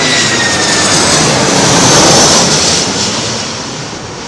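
A jet airliner passes low and loud on arrival to runway 27L at London Heathrow, a broad roaring rush of engine noise that swells to a peak and slowly fades as it moves away.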